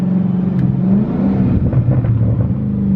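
A Dodge Hellcat Charger with an aftermarket intake revs on a downshift, a loud, close, deep engine rumble that rises and falls over a few seconds with no voices.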